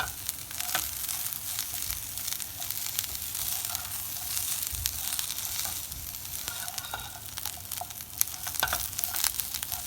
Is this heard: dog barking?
no